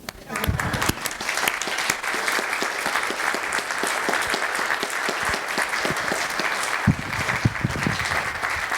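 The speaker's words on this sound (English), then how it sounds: "Now you can applaud." An audience at a lecture on writing applauds steadily for several seconds, a loud, continuous patter of many hands clapping with no talk over it.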